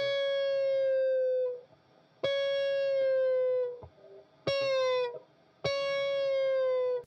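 Distorted electric guitar playing pre-bends: four sustained notes, each picked already bent and then lowered, with short gaps between them, clear and alone.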